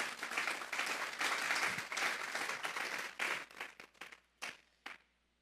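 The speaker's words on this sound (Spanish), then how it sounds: "Vamos a darle un fuerte aplauso pues al Señor esta noche" A church congregation applauds during an evening sermon, dense clapping that swells in waves, then thins into a few scattered, separate claps before fading to quiet.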